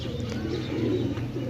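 Desi pigeons cooing continuously at close range, soft low throaty coos layered over a steady murmur, with a few faint chirps above.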